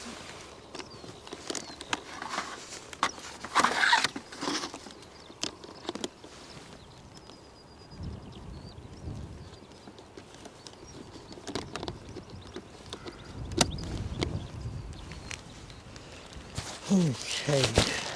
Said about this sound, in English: Oh, here comes the rain.